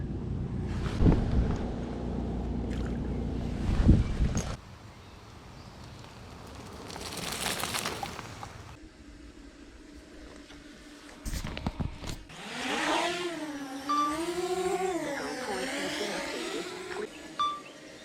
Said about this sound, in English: that boat is catching up on me